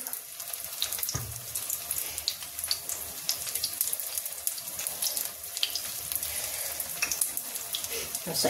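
Dough pieces frying in hot oil give a steady, close hiss of sizzling and bubbling that runs through the whole stretch, with one soft low thump early on.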